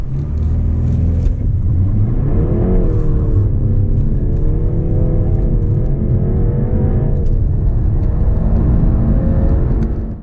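A BMW 330i Touring accelerates hard from a standstill on a damp, wet road, its engine a loud, close, continuous rumbling drone that climbs in pitch through the gears with brief shift dips, heard from inside the cabin without talk.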